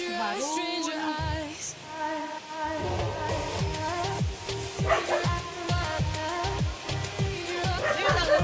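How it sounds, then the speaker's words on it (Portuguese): Small dogs bark and yip repeatedly in a backyard at a family home, sharp high-pitched bursts layered over a steady background of music or a voice, moderately loud and close. "Aí tem os cachorrinhos aqui no quintal"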